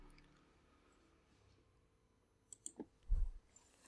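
A computer mouse clicks a few times in a quiet room on a Mac, short crisp taps spaced close together near the end, followed by a slightly heavier soft thump.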